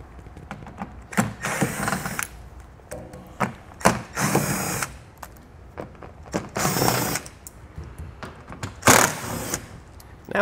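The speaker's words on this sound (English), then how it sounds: "We'll remove these all with an 8mm socket." Bursts of a power tool with an 8mm socket backing bumper cover screws out of a 2021 Mini Cooper, several separate whirring runs of a second or so each, with ratcheting clicks and handling noise between them.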